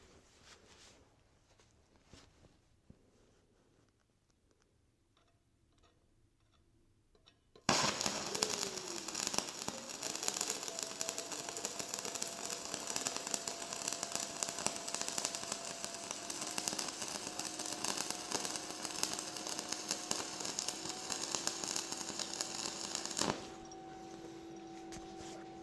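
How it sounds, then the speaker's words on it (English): Stick welding on a steel butt joint, with a loud, dense crackling sizzle that starts abruptly after a quiet stretch and runs steadily for about fifteen seconds before cutting out. "I'm gonna weld probably a couple inches and then we're gonna look at it."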